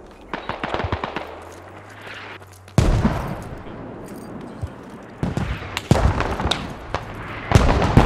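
Gunfire in the tactical shooter Squad during a tournament match: rapid bursts of rifle and machine-gun fire crackle in clusters, loud and close at times, with distant shots between them and faint voice chatter underneath.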